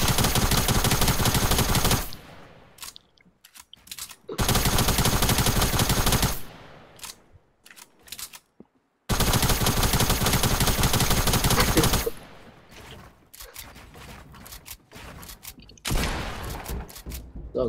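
Sustained automatic gunfire in Fortnite comes in loud, dense bursts separated by brief quiet gaps, with faint talk heard between the volleys.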